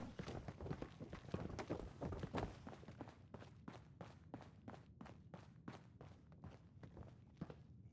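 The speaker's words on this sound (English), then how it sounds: "Now, I hear footsteps up above me." Footsteps overhead in a video game: a steady run of distinct thumping steps across the whole stretch, quicker and busier at first, then evenly paced and moderately loud, with no talking.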